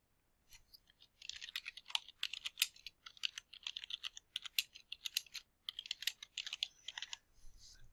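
Close, quiet typing on a computer keyboard while renaming a file: rapid bursts of light key clicks with brief pauses between words, no voices.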